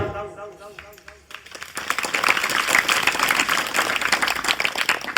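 A crowd at a Shivaji life-history lecture breaks into loud, dense, sustained clapping that follows a brief voice at the start.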